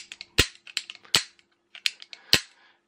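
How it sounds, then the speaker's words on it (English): Denix replica single action revolver being cocked and dry-fired up close: a series of sharp mechanical clicks with several louder snapping strikes of the hammer, spaced irregularly. "So you pull it back and bang."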